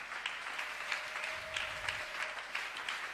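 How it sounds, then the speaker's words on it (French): Church congregation clapping together in praise, a steady rhythmic beat of many hands with a faint sustained tone and low murmur underneath. "clap for the Lord."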